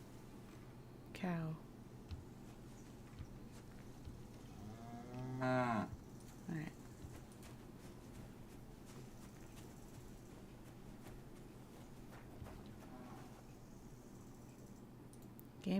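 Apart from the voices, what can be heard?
cow mooing in video game Kingdom Come Deliverance 2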